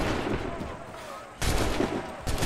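A musket volley erupts in the video game Assassin's Creed 3, with two sudden loud bursts of massed gunfire booming close by, separated by a short pause.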